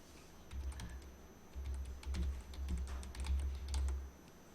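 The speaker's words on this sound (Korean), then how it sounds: "그냥 백스페이스만 쭉 눌러서 글자 다 지우고" Rapid clicking of computer keyboard keys as backspace is pressed repeatedly to delete text in an Excel cell, quiet close-up taps in uneven bursts with no talking.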